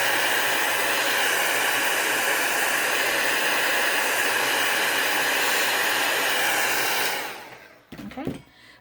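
A heat gun blows a loud, steady roaring hiss up close while embossing an alcohol ink craft, running continuously for about seven seconds before shutting off with a few faint handling sounds.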